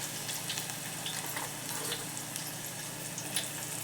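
Crushed garlic drops into plenty of hot oil and fries with a steady, close broadband sizzle and faint crackling pops for the whole stretch; no one speaks.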